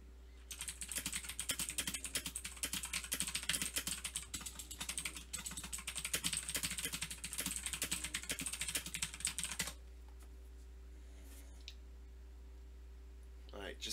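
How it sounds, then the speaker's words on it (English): Someone types on a computer keyboard, making a fast, steady stream of close clicks for about ten seconds. The typing then stops and leaves only low hum and an occasional faint click. "I'm going to type a message to the YouTube chat and you'll hear my keys"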